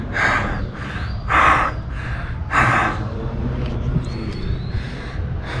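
Heavy, labored breathing from a man out of breath after climbing up to a hilltop church in San Cristobal de las Casas, Mexico, with repeated loud gasping inhales and exhales close to the microphone.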